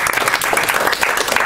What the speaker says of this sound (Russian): аплодисменты за такую